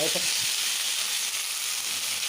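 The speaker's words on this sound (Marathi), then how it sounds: "सांसवा आतां पळय फुटून आयले" Mustard seeds sputter and pop in hot oil for a jackfruit seed bhaji, a steady close sizzle with a few early crackles and no talking.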